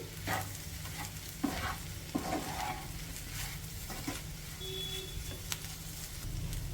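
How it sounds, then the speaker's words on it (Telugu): Spinach and egg fry in a pan over a medium flame, with a steady soft sizzle and intermittent scraping stirs, close up and without talk. "ఇప్పుడు ఫ్లేమ్ని మీడియంలోనే ఉంచి ఇదంతా కలిపేసేసుకొని 1 నిమిషం ఫ్రై చేసేసుకోవాలి."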